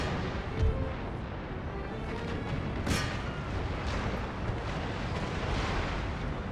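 Naval rockets launched during a sea battle in Empire: Total War, a dense roaring rumble of cannon and rocket fire with a sharper whooshing burst in the middle, continuous and loud throughout.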